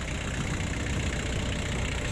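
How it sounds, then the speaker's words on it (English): A tractor engine runs at a steady idle while the machine is being unloaded, giving a continuous low rumble at close range with no talk heard. "I'm just getting the tractor unloaded."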